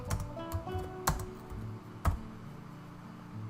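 Rapid keystrokes on a computer keyboard while Java lambda code is written, a close, steady patter of clicks with a few sharper, louder key hits standing out.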